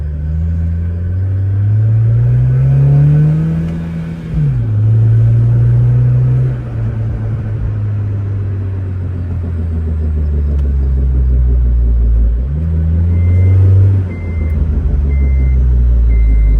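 A 2004–2008 Acura TSX engine with an aftermarket Yonaka exhaust rumbles low and loud, rising in pitch as it revs in first gear, then dropping back and climbing again; a faint beeping appears near the end.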